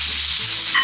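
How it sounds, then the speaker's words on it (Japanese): A small splash of soy sauce hits fried eggs in a hot pan, and a loud, bright sizzle swells sharply near the end of the short burst. "仕上げに、醤油を少し垂らします"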